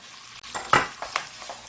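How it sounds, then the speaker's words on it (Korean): Clams stir-frying in about three spoonfuls of hot oil, heard as a soft sizzle broken by three or four close scraping clatters of a utensil in the pan, brief and moderately quiet with no voice. "바지락을 여기다 볶아주세요"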